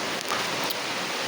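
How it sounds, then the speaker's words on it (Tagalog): Heavy rain pours steadily outdoors, a dense, unbroken hiss of falling water at an even, fairly loud level with no voices over it. "ayan na, grabing ulan"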